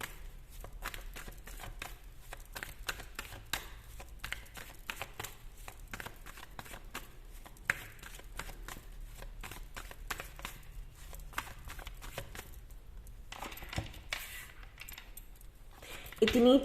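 Playing cards are shuffled by hand for a card reading, producing faint, quick papery riffles and soft taps in an irregular rhythm, close by and quiet.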